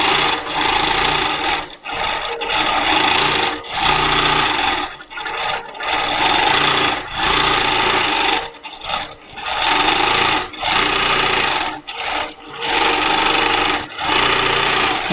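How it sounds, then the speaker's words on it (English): A sewing machine stitches in repeated bursts, loud and close, each run of rapid whirring broken by short pauses as the fabric is repositioned. "how tricky it is to stand to the side of the machine and do the stitching"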